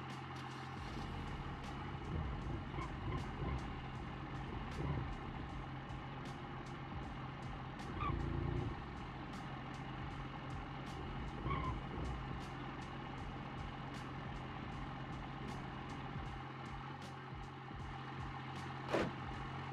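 A 2020 Chevy Duramax pickup truck idles in the BeamNG Drive video game, a steady low engine drone with faint periodic ticking and a small swell in the middle, heard alone without talk.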